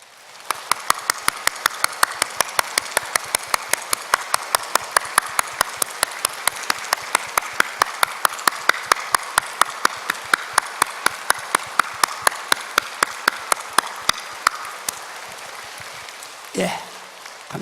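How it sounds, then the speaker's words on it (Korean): A church congregation claps together in a fast, rhythmic beat, many sharp claps falling in steady unison for about fifteen seconds before stopping, after which a voice briefly speaks. "장자 박수합니다."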